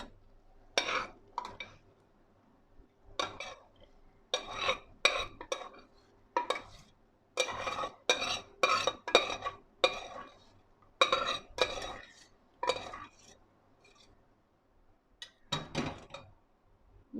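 Tamarind chutney being served from a pan into a dish: a metal spoon scrapes and clinks against cookware in short irregular bursts, close and fairly soft, with quiet pauses between.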